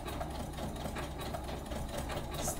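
An embroidery sewing machine stitches sheer, delicate fabric with a continuous fast mechanical whir and rattle, steady and close.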